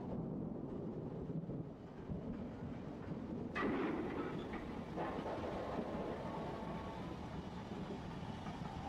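An LMS Black Five steam locomotive runs with a steady, loud rumble and rolling rail noise throughout, a sharper burst breaking in partway, with no talk.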